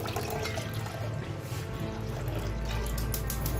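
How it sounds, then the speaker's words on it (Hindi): A cup of water is poured into a pan of homemade chilli sauce, a steady liquid splashing and gurgling that swells toward the end, close and continuous with no talk. "अब हम इसमें 1 कप और पानी डालेंगे।"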